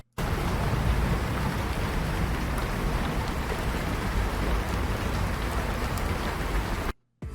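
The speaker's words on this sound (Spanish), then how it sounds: "Se escucha una lluvia suave que está perfecta para conciliar el sueño." Gentle, steady rain from an AI-generated sound effect patters evenly and continuously, with dense soft drops on a surface and no voices, fading in and out at the edges.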